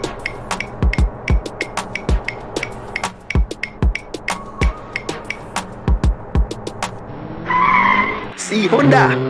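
A cartoon Honda car's tires skid and screech in an animated comedy, after a string of quick clicking and knocking effects, ending in a loud, harsh squeal.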